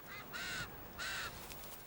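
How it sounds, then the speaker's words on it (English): A flock of birds squabbling over a handout of sheep offal gives two harsh, raspy calls, each about a third of a second long, fairly faint against steady background noise. "Over 100 birds can be attracted to a feast like this"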